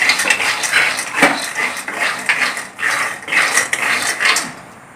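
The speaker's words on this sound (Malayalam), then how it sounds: "എന്നിട്ട് നന്നായി കുറച്ച് നേരം ഒന്ന് ഇളക്കി കൊടുക്കാം" Raw peanuts stirred in a hot pan for masala peanuts, giving a continuous dense rattle and scrape of nuts against the metal, close and fairly loud, with no talk over it.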